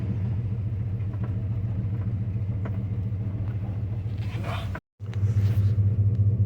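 A GMC K2500 pickup truck, long unused and with a brake warning light on, drives across a field with a steady low engine rumble close by that briefly cuts out near the end before the drone resumes, louder than before.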